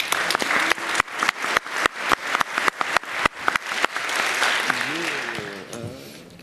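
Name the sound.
audience applause welcoming speaker on stage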